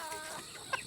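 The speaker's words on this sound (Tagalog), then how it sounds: "Nandito na mga manok natin." Chickens cluck softly in a brief, quiet burst of overlapping calls, with one sharper cluck near the end.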